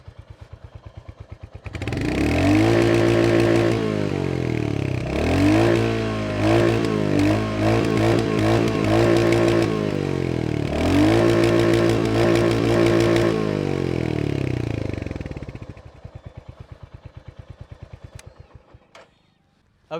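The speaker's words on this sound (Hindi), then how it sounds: "तो हंटर 350 का जो साउंड है उसे एक बार आप लोगों को सुना देते हैं।" A Royal Enfield Hunter 350 motorcycle engine idles, then revs up and down in several strong pulses with a deep thumping exhaust note, loud and close, before settling back to idle and fading.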